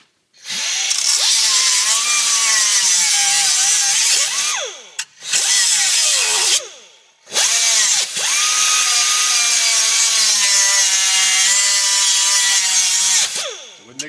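A power cutting tool grinds through a small spot weld holding the bumper on a 1971 Mach 1, loud and close, in long sustained bursts with short pauses and pitch dips as the blade bites and releases.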